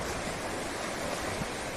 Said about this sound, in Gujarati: આ દરિયાના મોજા જો કેવા છે